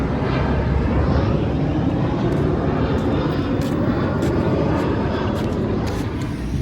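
A fixed-wing airplane passes overhead above a park, its broad engine roar steady and fairly loud for the whole stretch, easing off slightly near the end.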